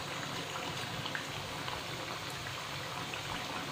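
Rice flour cutlets fry in oil in a pan, giving a steady, dense crackling sizzle throughout, with no talk over it.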